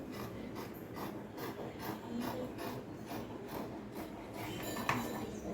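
Scissors cut through blouse fabric along marked lines, making a quiet, steady series of soft rasping snips at a regular pace, close by and with no talking.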